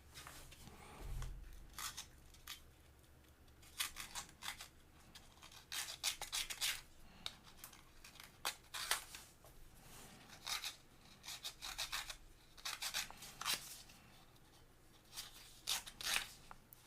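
Wooden parts of a Ugears mechanical celesta kit sanded by hand, giving repeated rasping strokes in short bursts with brief pauses, close and fairly quiet, no voices.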